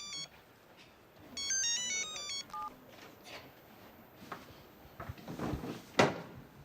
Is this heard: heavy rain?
no